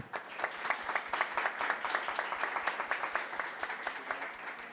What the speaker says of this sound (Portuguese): Quero pedir, então, uma salva de palmas